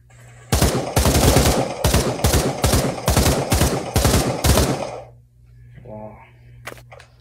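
Rapid automatic gunfire in the VR shooter Pavlov, played on a Quest 2: a loud, close burst of about eight heavy shots in a steady rhythm, then a short mechanical rattle and a few faint clicks.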